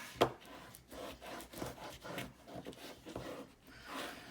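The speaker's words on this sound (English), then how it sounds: "I'm going to open this up and burnish it" Paper notebook covers being burnished by hand, a run of soft dry rubbing strokes at close range with one sharper tap near the start, steady and unaccompanied by talk.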